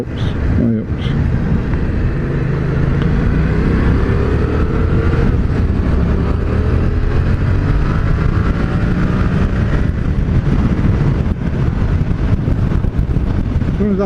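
A Yamaha MT-07 motorcycle engine pulls under throttle, a loud, close droning rumble with rising pitch sweeps, heavily mixed with wind buffeting on a helmet-mounted microphone.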